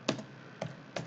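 Three quick, faint clicks of computer keyboard keys, spaced unevenly in a quiet room.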